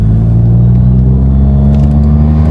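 A Tata Altroz CNG with an aftermarket exhaust and a three-cylinder engine pulls in second gear with a loud, close, droning engine rumble that rises steadily throughout.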